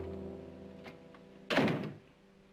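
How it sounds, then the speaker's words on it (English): A door thuds shut once, a single solid close after faint earlier shuffling in a quiet indoor room. "Close the door."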